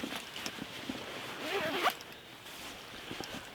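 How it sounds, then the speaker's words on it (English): A Swagman sleeping roll is zipped closed in a single drawn-out pull that rises to a louder rasp near the middle and then stops, set against quiet background noise. "I'm going to carefully pull this around and zip it the rest of the way."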